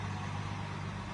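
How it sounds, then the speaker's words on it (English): A truck drives past outside on a city street near South Green Street, its engine a loud, continuous rumble with broad road noise that stays steady for the whole moment, with no talking. "as soon as this truck goes by"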